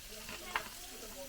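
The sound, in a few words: pork belly frying in pan for pansit habhab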